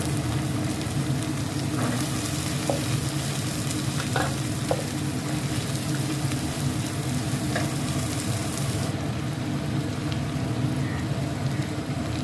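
Beans with garlic paste frying in oil, a steady close sizzle that runs throughout with a few faint utensil taps and stirring scrapes, and no talking.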